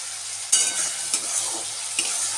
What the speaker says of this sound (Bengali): আদা রসুনের কাঁচা গন্ধটা যা পর্যায় পর্যন্ত আমি এটাকে ভালো করে একটু ভেজে নেব